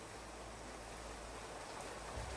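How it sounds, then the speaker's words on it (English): Heavy rain in the game Clanfolk makes a steady, even hiss of falling water, soft and continuous with no voices over it. "being affected by the fact that there's heavy rain"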